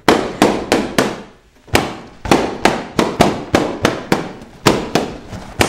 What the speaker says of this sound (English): Well, I'm sorry about the noise. It's just that Danielle doesn't want balloons